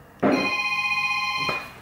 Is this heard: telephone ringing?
yes